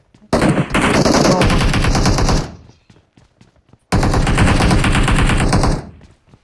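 Automatic gunfire from PUBG Mobile rattles out in two loud, sustained bursts of rapid shots, separated by a short gap filled with a few scattered quieter clicks.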